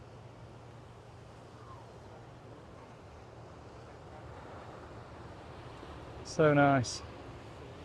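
Wind and ocean surf at Manly Beach in Sydney form a steady broad wash throughout, with a brief spoken remark near the end over the continuous roar.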